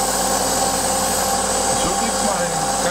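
Hair scissors are polished against a spinning grinding wheel, giving a loud, continuous, close-up whirring hiss with a brief dip in pitch partway through.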